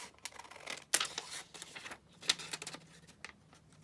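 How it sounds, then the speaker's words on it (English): Scissors snip through a piece of vintage paper ephemera, a few quiet, close crisp cuts with rustling paper handling between them and no talking. "So just going to cut this out."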